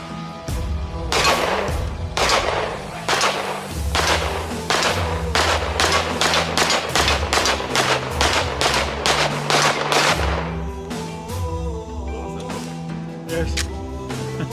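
Rapid gunshots ring out at an outdoor shooting range, a long string of loud, close reports in quick succession, then a few slower single shots.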